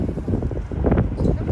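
Winter wind gusting along a Tokyo street on New Year's, a loud, dense rumble of buffeting microphone noise with rustling, continuous throughout the short stretch.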